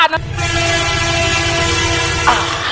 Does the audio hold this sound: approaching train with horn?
yes